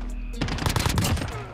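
Close, loud burst of Striker 45 submachine gun fire in a Modern Warfare shooter, a quick run of rapid shots lasting about a second before trailing off.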